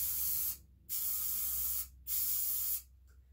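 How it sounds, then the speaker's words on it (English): Spray paint hisses from an aerosol can into a paper cup for resin art, three separate loud, close bursts of steady spraying with short silent gaps between them. "when using spray paint, you want to spray it into a paper cup first"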